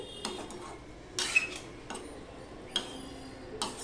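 Stirring drumstick curry in a pot, with a few sharp spoon-against-metal clinks spaced irregularly over a soft, quiet background, close by and without any talk.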